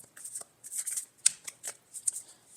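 Tarot cards are shuffled and pulled from the deck in a run of crisp, close riffling bursts, each lasting a fraction of a second with short pauses between, and no voices.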